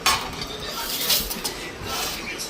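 A frying plate handled in a home kitchen, clattering and clinking against dishes and cutlery in a busy continuous jumble, close by, with faint household voices underneath.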